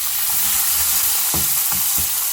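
Semiya vermicelli browning in a pan with salt, frying with a steady loud sizzle throughout and a few sharper stirring scrapes near the end.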